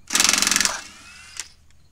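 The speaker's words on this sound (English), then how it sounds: "Go ahead and get an impact gun with 22 millimeter." Impact gun spinning 22 mm lug nuts off a Honda Ridgeline wheel, a loud rapid hammering burst of about half a second, then a fading whir and a short click.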